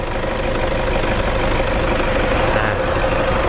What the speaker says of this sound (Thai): ไม่มีดันเครื่องยนต์เดินเรียบๆนะครับไม่มีปัญหานะครับ